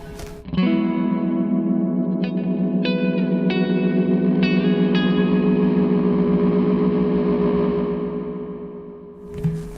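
An electric guitar chord rings through a Zander Circuitry Exosphere reverb pedal set to long decay, a sustained, shimmering wash with a few added notes that slowly fades over several seconds before a new strum.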